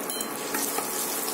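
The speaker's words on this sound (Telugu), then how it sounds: "అలా కలిపేసుకోండి." Ginger chutney mixture frying in a pan as it is stirred, a close, bright sizzle with soft scraping strokes over a short burst.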